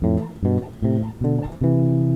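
Bass guitar sounding double stops, two notes ringing together in four separate plucked dyads with short gaps between them, played alone and clearly.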